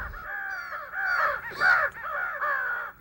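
Several crows caw loudly and close together in repeated harsh bursts, one call after another without pause, during a crow hunt in a cornfield area.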